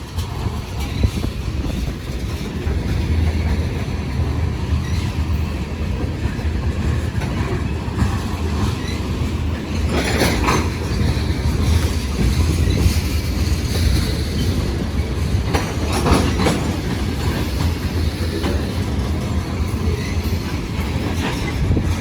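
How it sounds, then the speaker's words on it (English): A grain freight train with severe wheel flat spots rolls past close by, a loud continuous rumble with rhythmic clacking of wheels and occasional metallic screeches. "think I see the end of the train coming"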